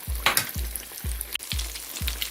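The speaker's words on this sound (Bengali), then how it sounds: "বাকি যেগুলো ছিল সেগুলো আমি তেলের মধ্যে ভাজার জন্য দিয়ে দিয়েছি এখন এগুলোকেও আমি ব্রাউন করে ভেজে নেব" Sweet pumpkin beguni pieces frying in hot oil, a close, continuous sizzle with a regular low thumping underneath, heard alone.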